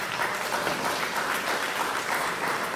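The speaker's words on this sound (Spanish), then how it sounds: "solicito los fuertes aplausos para que ellos" An audience at a town hall ceremony honoring artisans breaks into sustained applause, a thick, even patter of many clapping hands that holds steady throughout.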